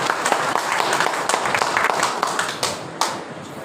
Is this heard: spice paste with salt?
no